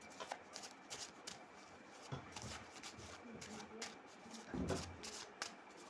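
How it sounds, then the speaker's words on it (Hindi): Tarot cards being shuffled by hand, giving soft, quick rustling riffles and light taps that repeat irregularly at a quiet level. "Just I shuffle my cards."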